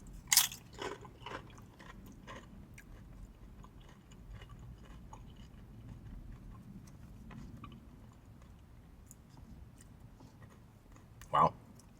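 Thick tortilla chips crunching with steak dip, a few sharp close bites at the start and one more near the end, with soft chewing in between.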